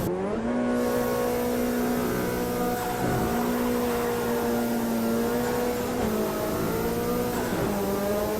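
Race car engine in the Automobilista sim racing game, droning loudly and steadily throughout with sustained high revs, brief dips and lifts around gear changes near the three- and six-second marks, no voices.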